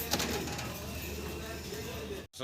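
Pigeon cooing from a pair of green racer pigeons shown for sale, soft repeated coos over steady background noise, with a brief dropout near the end.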